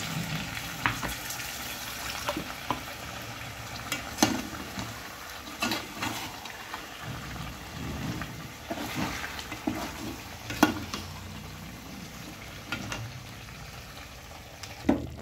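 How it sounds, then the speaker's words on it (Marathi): Konkani-style chicken curry of medium-thick consistency bubbling steadily in a pot, a continuous close simmering hiss with scattered pops and soft stirring clicks throughout, no voices. "किती सुंदर उकळी आलेली आहे"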